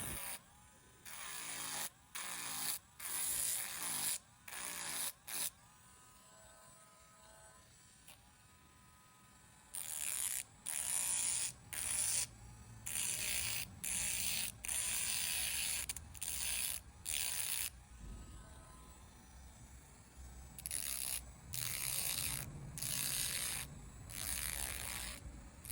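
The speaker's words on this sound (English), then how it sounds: "using my Dremel tool to sand down the rest" A Dremel rotary tool sands down glued wood edges of a mid-century modern nightstand, a high whining buzz in repeated short bursts separated by quiet gaps, close and alone.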